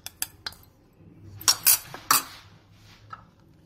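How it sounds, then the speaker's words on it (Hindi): A spoon folds flour into an eggless vanilla sponge cake batter, giving a few light clinks and scrapes against the bowl, quiet and spaced out. "एक बार में हम थोड़ा ही मिक्स करेंगे और इसे अच्छे से चम्मच से मिक्स कर लेंगे"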